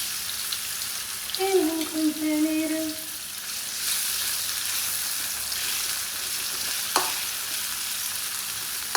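Food frying in a little olive oil in a home kitchen pan gives a steady, moderate sizzle throughout, with a brief stirring or scraping clatter early on and a sharp knock near the end.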